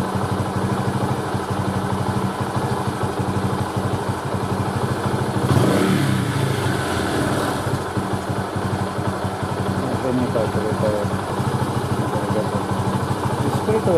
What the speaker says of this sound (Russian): О, поднялись обороты.